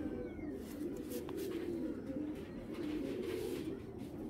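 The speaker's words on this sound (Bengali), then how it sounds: "কবুতরটা খুবই সুন্দর, এটাও কিন্তু অনেক পুরান জাতেরই" Chila-breed pigeon cooing close by, a steady, continuous low murmur of coos with no pauses and no talking.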